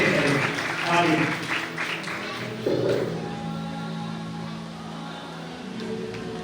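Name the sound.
audience applause welcoming a speaker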